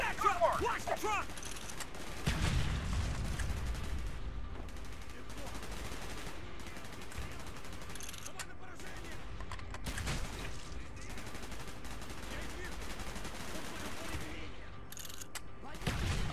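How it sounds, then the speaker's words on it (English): Gunfire from the Call of Duty Black Ops video game, with sustained bursts of shots and low booms running through the whole stretch under a steady bed of in-game noise and occasional radio-style voices. "Gunfire's drawing attention."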